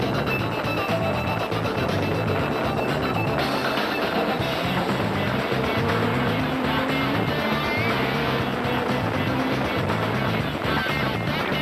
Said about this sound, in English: Chris Fiss and Jaapie Badenhorst in their Castor Toyota were mashing down the accelerator